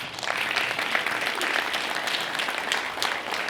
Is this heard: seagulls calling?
no